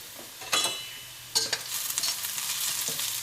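Onions, ginger and green chillies sautéing in a pan for Kerala-style vegetable cutlets. Two sharp spatula scrapes stand out over a continuous close sizzle, with no talking.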